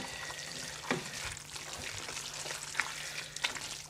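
A thick, pasty Texas chili mixture is stirred in a pot with a low sizzle underneath, and a few soft scraping clicks from the spoon stand out near the start, middle and end.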